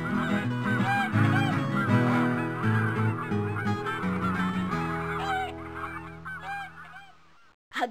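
Cartoon geese in Dr. Seuss's ABC game honk in a busy, overlapping chorus, loud and dense at first, thinning out toward the end before a final sharp burst.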